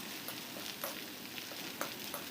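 Finely sliced onions fry in oil and ghee until crisp and reddish-brown, giving a steady, soft sizzle with a few sharper crackles and spatters, heard alone at low volume.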